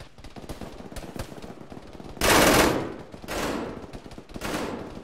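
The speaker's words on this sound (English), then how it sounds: "that's a bad guy shooting." Enemy gunfire in a military video game comes as three loud automatic bursts, the first the longest and harshest, with quieter shots and clatter between them.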